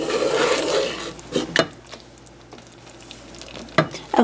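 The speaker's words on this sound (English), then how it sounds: "Okay, now that we're boiling, I've got a timer set for 3 minutes." Candy syrup boiling in a pot for Christmas crackers candy, heard as a close bubbling hiss with scattered sharp clinks and scrapes of stirring, loudest at the start and near the end.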